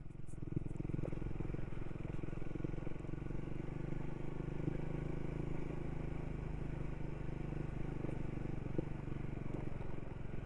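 A Triumph 400 Supermoto motorcycle is ridden over a rough road, its steady engine drone and road rumble continuous and close, with occasional faint clatters and scrapes from the bumpy surface.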